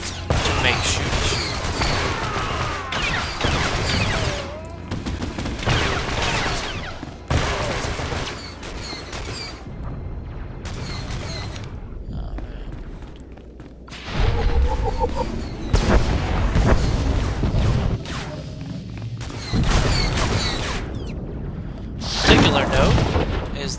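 Republic trooper blaster fire in The Old Republic video game, in repeated loud bursts and volleys with short gaps between them, under someone talking.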